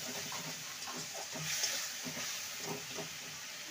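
Spices with a pinch of asafoetida sautéing in a pan for a vegetarian pumpkin and potato dish, a soft steady sizzle with faint stirring scrapes, quiet and close, no talking.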